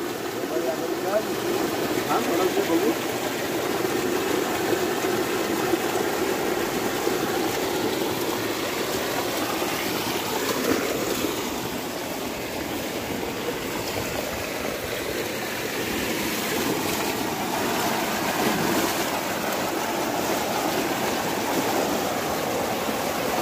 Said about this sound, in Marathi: पाणी स्पीडला आहे ना